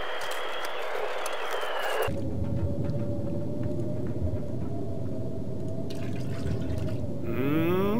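Water trickles and drips from a toilet tank in a bathroom in The Long Dark survival game, a low liquid rumble running steadily after a short opening sound, with a rising swish near the end and no talk.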